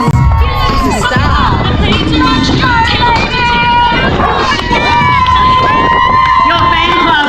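Crowd cheering and shouting at a breast cancer charity walk, a loud continuous mass of voices with whoops and calls, close and lively throughout, with some children's shouts in the mix.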